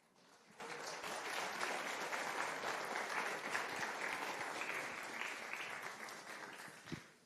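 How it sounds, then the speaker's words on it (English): An audience at a congress breaks into sustained applause for an award laureate, steady dense clapping that swells in, holds for about six seconds and then fades out. "you applauded the laureate"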